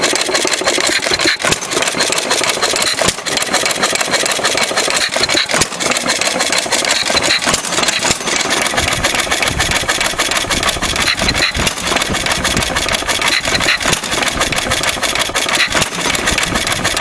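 A 1.5 Sattley stationary engine on its first run runs steadily and loud with a rough, uneven idle, faint knocks and sputters scattered throughout, no voices.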